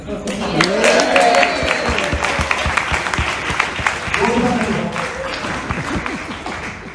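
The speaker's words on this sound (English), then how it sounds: "we all need to give each other a round of applause" Wedding guests at a reception applaud together, steady clapping from a crowded room with voices and cheers mixed underneath.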